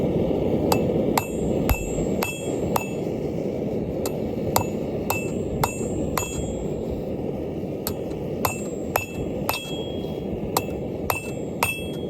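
Hammer striking steel on a loose, shifting anvil while forging a hair barrette, a close, irregular series of ringing metallic blows with pauses between bursts, over a constant background hum.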